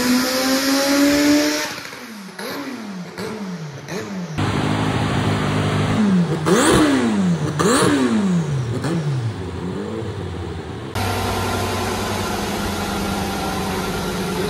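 A turbocharged Monkey-style motorcycle engine on a dyno revs hard in repeated rising and falling sweeps, loud and close, then holds a steady high drone at the end, with no talking.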